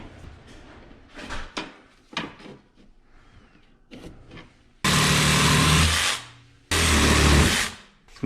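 Pieces of aluminum cut with a power tool in a workshop: after some handling and rustling, two loud, harsh bursts of cutting, each lasting about one to two seconds, close and dominant.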